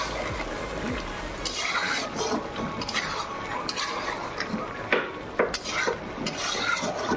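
Mutton cooks in a pot at a Bengali New Year gathering, with the stirring ladle scraping and clinking against the metal amid a soft simmering bubble and faint background voices, the clatter growing sharper toward the end.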